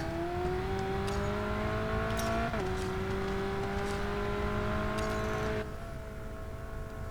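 Car engine in the racing video game Racing Master, a loud steady whine climbing in pitch through gears with a sharp shift drop midway and another near the end, alone without talk.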